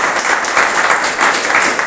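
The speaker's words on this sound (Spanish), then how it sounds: "Aplausos." A church congregation breaks into applause during a Sunday sermon, a dense, steady wash of many hands clapping in a reverberant hall for about two seconds, loud and close, with no talk over it.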